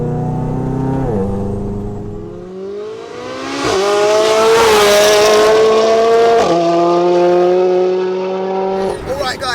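An 800 bhp Volkswagen Golf R pulls at full throttle, its engine note rising hard through several gears with sharp drops at each shift, loud and close with a roaring, boosted edge.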